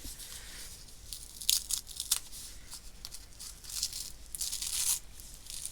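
Paper template being peeled out of a fabric clam shell piece in English paper piecing, a series of soft close tearing and crinkling rips over a quiet background.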